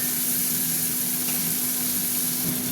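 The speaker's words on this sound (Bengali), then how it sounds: "পেঁয়াজটা ভাজা হতে থাক" Onions fry in oil with dried chillies and bay leaves, a dense, even sizzling hiss close by that holds steady throughout with no stirring strokes or voices.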